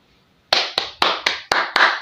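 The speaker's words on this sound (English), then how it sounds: "Let's clap for her as she come in." Six sharp, evenly spaced claps ring out after a half-second of near silence, loud and close, as people clap to welcome a guest.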